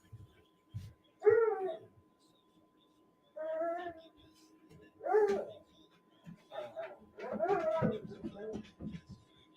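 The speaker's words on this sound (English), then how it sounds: "There are my dogs barking and yelling at each other." Two pet dogs barking, yelping and whining at each other indoors in short separated bursts, fairly close, with a low background of other sound.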